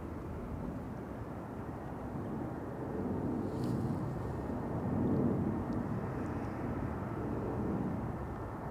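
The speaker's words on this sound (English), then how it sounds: "I think that's a more interesting airplane to be filming. The Singapore A350." A Singapore Airlines Airbus A350 airliner at Amsterdam Schiphol Airport gives a distant, steady jet roar that swells gently and then fades slightly, with no voices over it.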